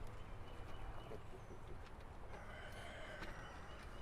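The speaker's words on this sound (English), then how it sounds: "the chickens want to come see what we got going on" Chickens cluck softly in the distance over a steady outdoor rumble, with a few faint bird calls scattered through.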